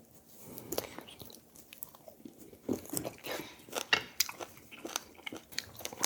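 Close-up chewing of Korean-style L.A. ribs, with wet bites and crunchy mastication coming in irregular bursts, without any speech.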